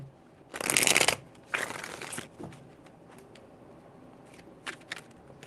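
Tarot cards shuffled by hand in two close bursts, a crisp riffling flutter followed by a shorter one, then a few faint taps and card slides in a quiet room.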